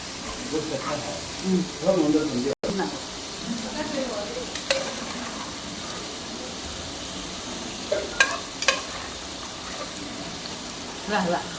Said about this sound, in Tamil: இப்போ நம்ம இந்த மட்டனை வந்து நம்ம போட்டுக்கலாம்.